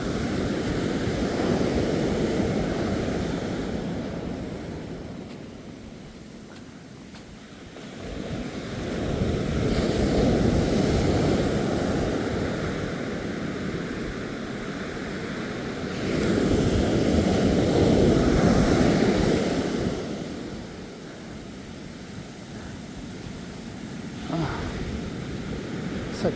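Ocean waves break and wash up on Ōakura Beach in slow recurring surges, each swelling roar followed by a foamy retreat, with wind buffeting the microphone throughout.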